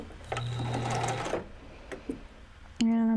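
Sewing machine running a seam with a short back stitch, a fast mechanical whir that stops, a few clicks, then a brief tone.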